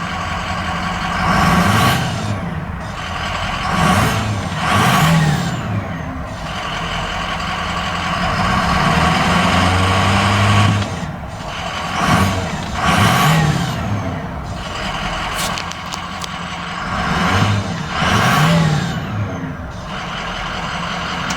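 A 2004 Ford F350 Super Duty dually with a Powerstroke diesel engine idles with a low rumble and revs several times in swelling bursts, loud and close, with no voices.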